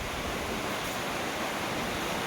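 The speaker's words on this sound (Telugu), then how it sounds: "వంకల నీళ్ళు పోతా ఉంది, దాన్ని వాటర్ ఫాల్స్ అనుకుంటారు వీళ్ళంతా." Water from a small stream flowing near Chikmagalur, a steady broadband rush close by that fills the whole clip with no talk.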